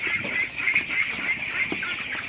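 A crowd of broiler chickens clucks and chatters continuously, a dense, steady flock sound with no talking.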